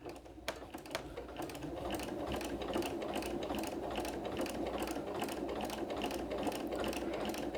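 A sewing machine stitching quilt binding for mitered corners runs in a steady fast mechanical whir of needle strokes, close and uninterrupted with no talk.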